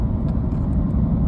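A 2010 Chevy Silverado pickup with a 5.3L V8 drives along on a test drive after a fuel injector replacement, giving a steady, loud low engine and road rumble from inside the cab.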